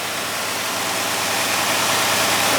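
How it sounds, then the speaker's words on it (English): Starfire fire engine idling steadily after a cold start, a constant broadband engine rumble with a low hum, close and loud throughout, no voices. "we're doing a video of the engine running."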